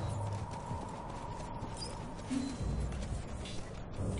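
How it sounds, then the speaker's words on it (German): Footsteps in the video game Enslaved, a steady clip-clop of steps running through the whole stretch under continuous game ambience, fairly close and even in rhythm. "Ich höre Schritte."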